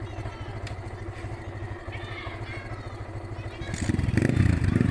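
A motorcycle ridden by a learner working the clutch idles with a steady pulsing chug, then revs louder and rougher near the end, close by.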